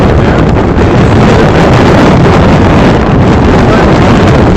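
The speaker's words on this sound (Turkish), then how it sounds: "Felaket rüzgar doğrudur." Loud, continuous storm wind buffets the microphone, producing a dense roaring rumble with no letup.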